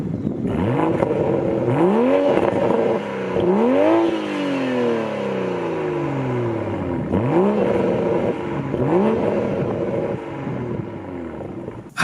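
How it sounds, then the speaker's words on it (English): A 2021 Toyota Supra engine revs repeatedly, with sharp rising sweeps followed by falling exhaust tones and pops and crackles between the bursts, loud and close with no voices. "I love the exhaust sound. I think it sounds so good. Got the pops and crackles."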